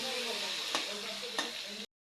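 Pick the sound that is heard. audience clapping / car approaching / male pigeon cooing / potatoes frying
potatoes frying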